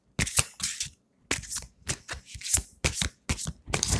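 A deck of Angels of Love oracle cards is shuffled in quick, riffling bursts separated by short pauses, close and clear with no talking.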